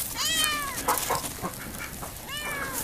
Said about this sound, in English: Hi, my feral cat.